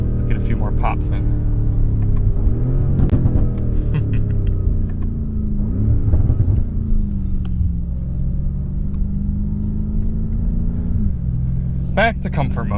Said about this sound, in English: Let's get a few more pops in.